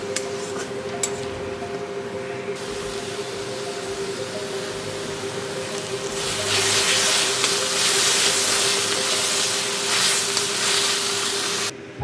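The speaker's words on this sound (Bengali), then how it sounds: "ভালো করে আমি পেঁয়াজটা এর সঙ্গে ভেজে নেব" Onion frying in a pan as ginger paste goes in, a steady sizzle that swells louder midway and holds, with a faint tonal hum underneath.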